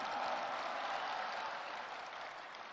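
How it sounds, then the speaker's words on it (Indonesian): A crowd at an outdoor political rally claps in a dense, continuous wash of applause that sounds somewhat distant and fades slightly toward the end. "Kita berikan tepuk tangan untuk itu."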